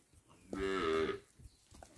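A cow on a dairy farm gives a single drawn-out moo of about three quarters of a second, clear and moderately close, set against quiet outdoor background.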